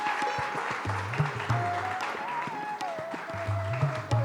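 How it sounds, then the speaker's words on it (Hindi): An audience applauds loudly at a ceremony honouring martyred soldiers' families, steady clapping throughout with music playing underneath. "जोरदार तालियां।"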